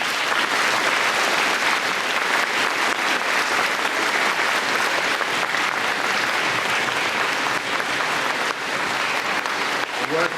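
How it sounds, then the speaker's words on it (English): An audience at a middle school Veterans Day program applauds steadily and loudly for the whole stretch, a dense, sustained patter of clapping with scattered crowd noise. "Give them a round of applause"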